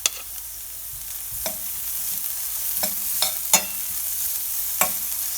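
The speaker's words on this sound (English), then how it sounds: "Next I am going to add green chilies, chopped green chilies" Chopped green chilies with ginger and garlic sautéing in oil for a dal tadka, a soft steady sizzle punctuated by a handful of sharp spatula taps against the pan.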